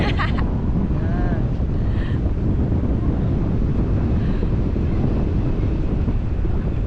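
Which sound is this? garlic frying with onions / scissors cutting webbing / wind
wind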